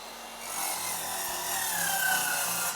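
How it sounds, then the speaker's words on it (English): A hand saw cuts through a piece of wooden trim, a continuous rasping stroke sound close by and fairly steady for nearly three seconds, with no talking. "so now we take our piece of trim and make the cut."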